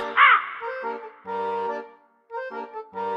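A crow caws in a children's story about a snake and a crow, several harsh, nasal calls spaced out close by, with a brief squawk at the start and short pauses between the cries.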